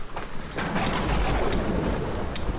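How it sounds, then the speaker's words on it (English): Rain falling steadily in the survival video game Aska, with a low rolling rumble of thunder building underneath, a continuous wash of noise at moderate level with no talk. "Sounds like more rain on the way"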